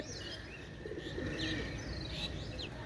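Local pigeons of the Bears breed from Khulna coo softly at a steady low level, with faint chirps and rustling mixed into continuous background noise.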